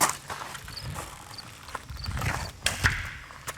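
A shed door's knob is turned and rattled, giving faint metallic creaks and clicks with a couple of sharper clunks near the end, close by.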